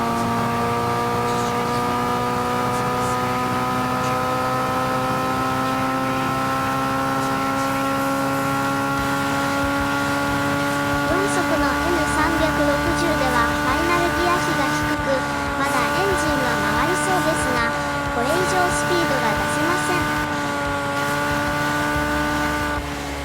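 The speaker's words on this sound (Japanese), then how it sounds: "3速と4速のギア比がワイドレシオのためにエンジン回転数が落ち、一旦加速が鈍くなっちゃいます。" A Honda N360 with a wide-ratio four-speed gearbox accelerates on a circuit. Its small engine gives a steady, buzzing drone that climbs slowly in pitch, and the revs sag briefly after the shift into top gear.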